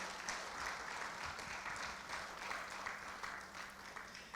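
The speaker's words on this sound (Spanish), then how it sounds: "Give that applause to the Lord." A church congregation applauds steadily, a continuous wash of many hands clapping at a moderate, somewhat distant level with no voices over it.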